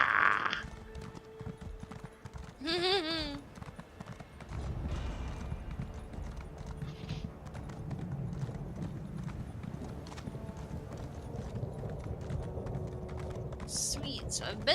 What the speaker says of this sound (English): A horse, a horse, a horse, a horse, a horse.